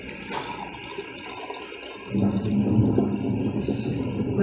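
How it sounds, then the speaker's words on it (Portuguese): Vinegar is poured into a clear glass holding chalk, starting with a faint trickle and then a louder, steady pour that fills the glass for a couple of seconds. "Agora eu vou colocar o vinagre."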